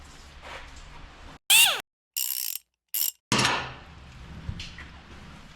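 A ratchet loosening the serpentine belt tensioner on a 2020 Dodge Ram 1500 3.6L, a few sharp, loud clicking bursts separated by silences, followed by a fading mechanical rattle.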